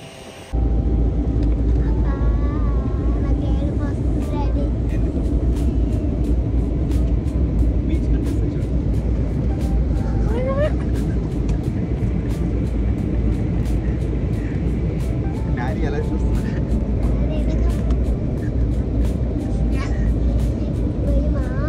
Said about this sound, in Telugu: ఫైనల్లీ మా ఫ్లైట్ అయితే టేక్ ఆఫ్ అయిపోయింది.